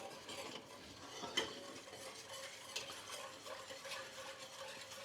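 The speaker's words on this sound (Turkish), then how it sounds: "Hemen çırpacakla şekerini eritiyoruz." A whisk stirs sugar and water in a pot over heat to melt it into syrup for baklava, giving continuous soft scraping and swishing strokes with faint sizzle, quiet and close, with no voices.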